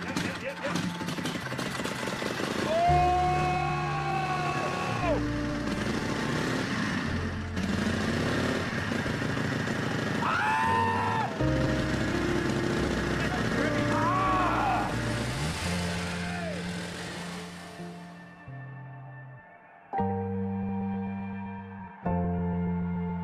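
A rare vintage museum motorcycle engine runs in a workshop, idling and revving in uneven bursts close by, with voices talking over it before it settles and cuts to a quieter, steadier tone.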